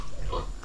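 A pig gives a short, low grunt close by, a single brief snort over a rumbling outdoor background.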